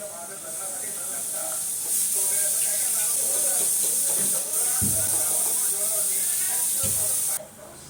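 Colocasia leaf vadi (aluvadi) frying in hot oil, a steady broad hiss and sizzle running throughout at close range with a few brief clatters, fading abruptly near the end.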